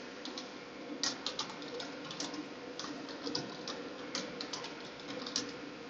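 A new username and password are typed on a computer keyboard, giving a steady patter of quick, close key clicks with a few louder taps over six seconds and no voices.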